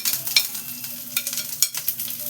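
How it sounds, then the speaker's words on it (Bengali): Mustard seeds, whole cumin and chopped garlic tempering in hot oil make a busy, close crackle of rapid pops and spatters over a steady sizzle, with no one talking. "ওই সর্ষে দিলাম। খানিকটা গোটা জিরে দিলাম, রসুন, কুচনো রসুন দিয়ে দিলাম"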